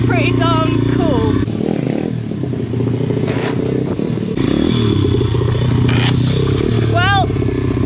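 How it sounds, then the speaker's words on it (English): Motorcycle engine revving and dropping back during footbrake wheelie practice, loud and close with clattering mechanical noise, while a person talks over it. "I did an extra rev"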